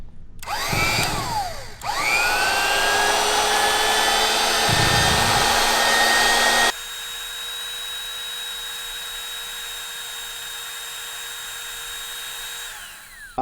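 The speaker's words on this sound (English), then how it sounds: "this is a masonry bit. You can't use a standard drill bit." A high-pitched power drill with a masonry bit whines loudly into a concrete floor, bogs down briefly, then runs steadily before dropping to a quieter, thinner whir that winds down.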